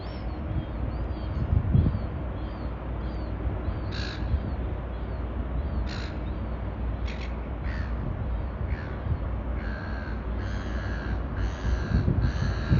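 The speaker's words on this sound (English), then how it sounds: "the seagulls are excited because they get to have Mickey waffles now" Seagulls calling over Sydney Harbour near the bridge, heard from a cruise ship deck: several short, sharp cries scattered through steady wind and ship rumble, moderately distant and repeating irregularly.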